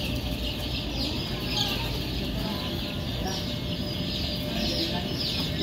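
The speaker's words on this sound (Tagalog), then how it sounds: "Ang gaganda ng mga sisiyo dito" Chicks and chickens on a poultry farm cluck and cheep in a steady, busy chorus throughout, with constant barn background and faint voices mixed in.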